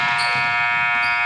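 A loud, sustained electronic buzzer sounds in a high school gym at the end of a basketball quarter, a steady harmonic tone filling the whole moment.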